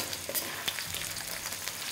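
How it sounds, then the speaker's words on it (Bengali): Pointed gourd (potol) fries in very hot oil, a dense, continuous crackling sizzle with scattered pops, close and moderately quiet, lasting about two seconds with no talk. "আর পটলটা ফ্রাই করার সময় তেলের টেম্পারেচারটা আপনারা একদম হাই রাখবেন"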